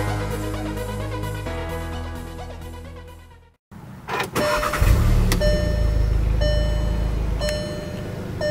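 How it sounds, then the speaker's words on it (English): A 2017 Volkswagen Golf R in lapis blue, heard with engine and road sound that stays loud and steady, then cuts to near silence before the engine swells back up, with no talking. "today we're driving a"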